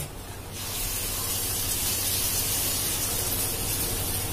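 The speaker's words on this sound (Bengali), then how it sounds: "ডিমটা ঢেলে দিয়েছি, আর এবার ওটা ফ্রাই হবে" Beaten egg poured into a hot pan for an omelette breaks into a loud, steady sizzle after half a second of quiet, a dense spraying hiss that continues evenly to the end, with no talking.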